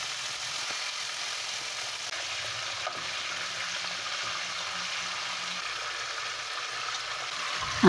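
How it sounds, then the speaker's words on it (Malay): Chicken frying in oil gives a steady, even sizzle that continues throughout with no voices. "kita goreng ayam dulu. Goreng ayam tu separuh masak je ya."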